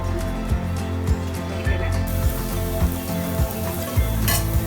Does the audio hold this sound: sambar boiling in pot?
yes